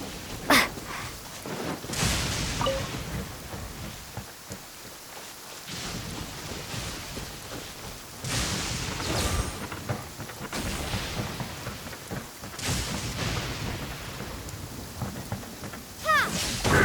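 Rain pours steadily while rolling thunder rumbles in long loud swells within the Genshin Impact video game, sustained and dense with no speech.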